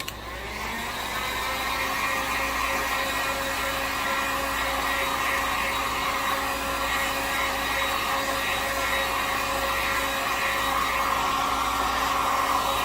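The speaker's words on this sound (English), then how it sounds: "Heat gun. Hey, shout out to the heat gun since 2012. Still running strong." A heat gun in use since 2012 blows steadily in a knife-making workshop, a loud continuous whirring rush with a faint tonal hum that holds evenly for the whole stretch, with no talking over it.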